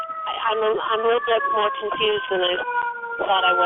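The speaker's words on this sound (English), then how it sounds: "Excuse the siren going by." A wailing siren sweeps up and down in pitch, loud and close, as a person keeps talking over it.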